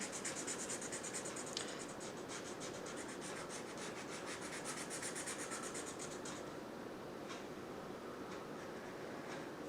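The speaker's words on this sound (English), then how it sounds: "is with a black marker, and you just draw a window, color it in." A black marker scratches and rubs across cardboard in quick repeated strokes, coloring in a drawn window; close and quiet, with the scribbling fading to a few lighter strokes toward the end.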